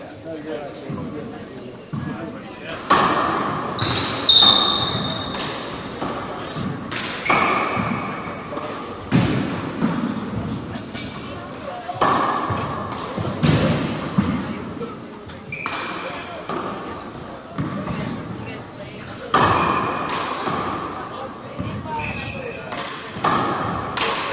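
Small handball bounces and thuds off the floor and walls in a four-wall court during a 19-and-under junior world finals match, sharp repeated impacts under steady commentary.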